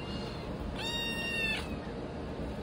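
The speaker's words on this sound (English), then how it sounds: "Orange cat." An orange kitten gives a single clear, drawn-out meow, close and fairly loud, against a quiet indoor background with no talking.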